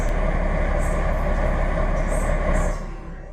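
Train running in the Stepford County Railway video game, a four-coach service, with a steady loud rumble of wheels and motors throughout and a few higher squeals, easing slightly near the end.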